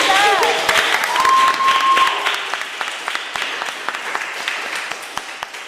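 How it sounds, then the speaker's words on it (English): Warm audience applause from a seated crowd, loud at first with a short spoken phrase over it, then thinning into scattered claps as it fades out. "I think we should clap again for Faith and Jess and Fina."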